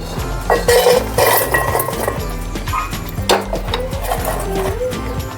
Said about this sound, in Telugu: ఇప్పుడు గ్యాస్ ఆఫ్ చేసుకొని వీటిని వేరే గిన్నెలోకి తీసుకుందాం